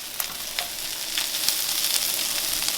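Corned beef hash of potatoes and onions sizzling steadily in a hot pan as it is turned over, a loud continuous fry with crackling bursts and no talk.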